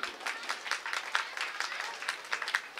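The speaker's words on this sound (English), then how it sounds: "Please give a clap for him." Scattered applause from a small group at a school prize-giving ceremony, fairly quiet and steady, with irregular claps overlapping throughout.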